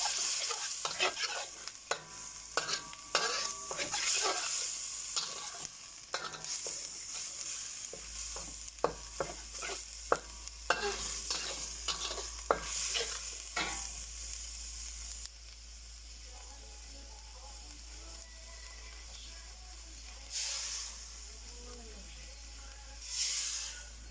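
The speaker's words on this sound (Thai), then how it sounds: "ผัดพริกแกงให้หอมเลยอะค่ะ" Curry paste stir-fried in oil in a home kitchen while cooking a chicken curry, with soft sizzling and repeated scraping strokes of a utensil in the pan, quieter sizzle continuing alone later.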